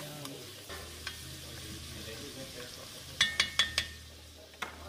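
Vegetables, including celery, green and orange pieces, sizzle steadily in a pot for ham, bacon and corn chowder, with a few sharp clinks of a utensil against the pot partway through.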